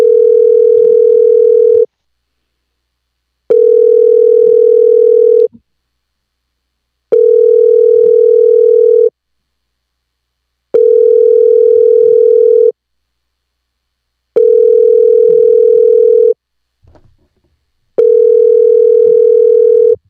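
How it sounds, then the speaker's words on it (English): A phone call rings out unanswered, six long evenly spaced tones about two seconds each with equal gaps between them, loud and close, with no voices. "Just call him one more time, see if he picks up the phone."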